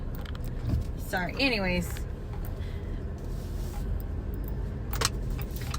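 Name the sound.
car driving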